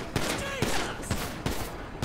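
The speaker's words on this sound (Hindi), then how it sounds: "भागो भागो, सिलेंडरमैन गोली चला रहा है" Bursts of gunfire in GTA 5 from the Slender Man mod, with about four sharp shots spaced across two seconds over a dense, busy game soundscape, fairly loud and close.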